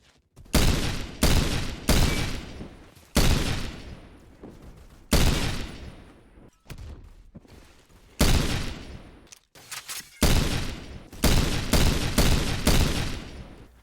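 Desert Eagle pistol fitted with a police stock firing in Phantom Forces, a string of loud, booming shots in quick clusters with short gaps, each crack trailing off in a brief echoing tail.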